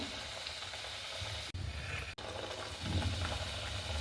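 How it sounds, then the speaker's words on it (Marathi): Spicy fenugreek puris frying in hot oil, a continuous soft sizzle and bubbling at close range, briefly cut out twice before swelling slightly louder. "आता आपण या मेथीच्या पुऱ्या तळून घेणार आहोत।"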